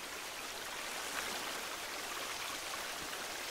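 Quiet trickling, splashing water flowing in The Forest survival video game, a soft hissy stream sound that stays steady and fairly faint throughout.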